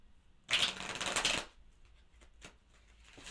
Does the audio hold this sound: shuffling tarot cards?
yes